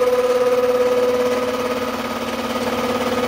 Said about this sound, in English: Pull the gear into the cutter.